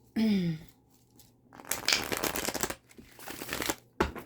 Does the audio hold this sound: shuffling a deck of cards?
yes